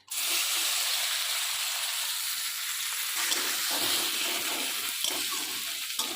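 Chopped onion frying in hot oil in a pan, a steady close sizzle with a hissing wash that holds throughout, no voices.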